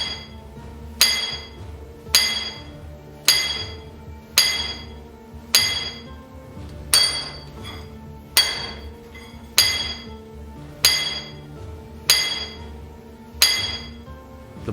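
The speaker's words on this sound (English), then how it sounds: "Once the hole is cleared, he resumes drilling." A miner hand-drills a blast hole in rock, striking the drill steel with a hammer in a slow, even rhythm of about a dozen sharp, ringing metallic clinks, each decaying before the next blow, close and loud.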